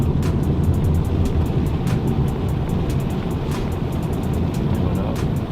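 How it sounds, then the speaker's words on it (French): A Hyundai i30N Pack Performance drives at speed through a small patch of water, with steady loud road and engine roar throughout and repeated faint splashy hiss bursts over it. "Hop, sur la petite plaque d'eau."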